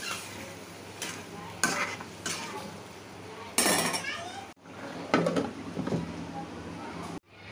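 Egg curry is stirred in a pan, a spoon scraping and clanking against metal over a low sizzle in repeated bursts, with a brief voice partway through.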